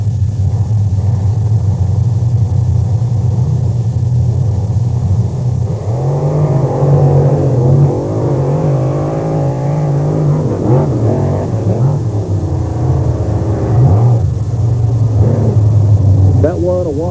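Monster truck engines rev at a 1998 beach racing event in Wildwood, New Jersey, a loud continuous rumble with rising and falling revs throughout, an announcer talking over it.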